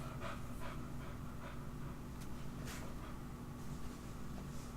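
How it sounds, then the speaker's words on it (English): A dog huffing and panting in the background of a quiet room, faint rhythmic breaths repeating under a low steady hum. "I'm not sure if you can hear my dog in the background, but he is huffing and puffing"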